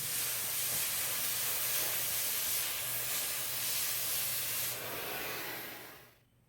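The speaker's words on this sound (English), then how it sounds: "that part should be ready for sandblasting" Sandblasting on a modified 1966 Ford Bronco transmission crossmember, heard as a steady, loud, broadband blasting hiss that runs continuously before cutting off abruptly near the end, with no talk.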